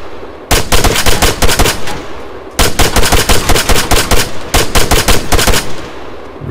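Gunfire at training targets in Arma 3 boot camp: three loud bursts of rapid shots, each lasting about one and a half seconds, with short pauses between them and no talk.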